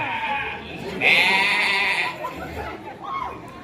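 A goat bleats loudly and close with one drawn-out, wavering call, followed by fainter bleats, while people talk in the background.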